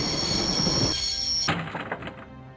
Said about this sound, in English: I'd always wanted to stop the train, and now was my chance.